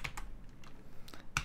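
Quiet, close typing on a computer keyboard, a few scattered keystrokes with short pauses between them and no voices.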